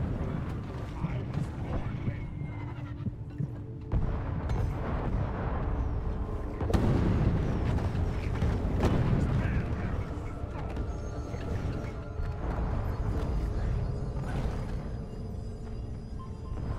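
Exploder enemies blowing up in Deep Rock Galactic during an Elite Deep Dive: dense, continuous roaring blasts with sharp bursts layered into a loud, chaotic battle din, with a voice faintly underneath.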